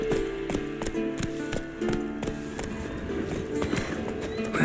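Geralt's horse Roach moves in The Witcher 3, steady rhythmic hoofbeats thudding along at a gallop, moderately close, beneath background music.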